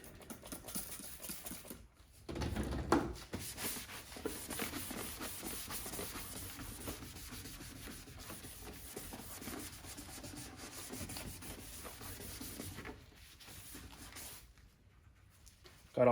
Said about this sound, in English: we're actually going to go ahead and take our soapy water, and we're just going to clean this real quick